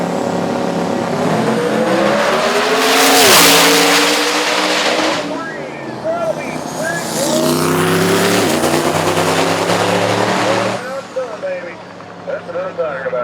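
Radial-tire drag race cars at the No Mercy 9 final qualifying, blasting off the line with loud, sustained engine roars that climb and shift through gears, one after another down the strip.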